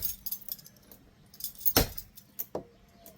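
A bump key rakes the pins of a house lock during a foreclosure unlock: scattered light metallic clicks and jingles, with one sharper rattling burst and a few smaller taps, close by and without speech.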